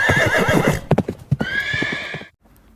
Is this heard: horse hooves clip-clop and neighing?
yes